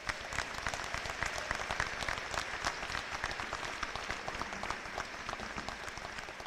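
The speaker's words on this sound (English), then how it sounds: "let's give them another round of applause." Commencement audience at a 2022 spring graduation ceremony applauding for the class of 1972, a dense, even roar of many hands clapping that holds steady throughout, moderately distant.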